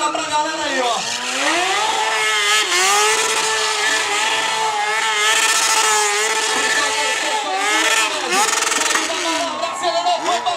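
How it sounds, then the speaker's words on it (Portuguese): Stunt motorcycle worked hard during a maneuver, engine revving up and down in rising and falling sweeps, loud and close, with a commentator's voice over it. "Moto trabalhando no limite, pilotos e máquinas trabalhando no limite total."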